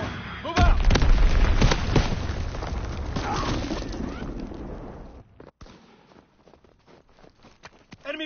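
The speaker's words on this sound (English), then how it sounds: "Azon bomb mission underway." Azon bomb explosions in Call of Duty WW2 open with a heavy boom and rumbling blasts for several seconds, then fade into scattered sharp impacts and faint footsteps in a quieter stretch.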